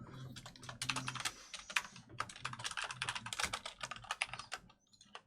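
Rapid, uneven keystrokes on a computer keyboard while code is typed, close and fairly loud, clicking in quick bursts with brief pauses and a low room hum underneath.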